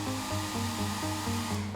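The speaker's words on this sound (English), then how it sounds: "When you turn on the hairdryer" A hairdryer runs steadily, blowing air with a broad whooshing rush and a humming motor tone that wavers slightly, close up with no voices.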